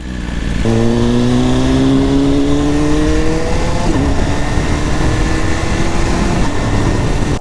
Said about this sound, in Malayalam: സൗണ്ട് രക്ഷയില്ല വണ്ടിയുടെ